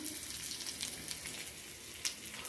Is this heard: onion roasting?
yes